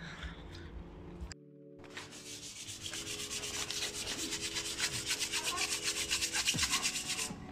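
Sandpaper rubbing over car brake calipers being prepped for spraying outdoors, a steady fast back-and-forth scratching that builds in loudness and runs continuously after a brief pause near the start, with no talking.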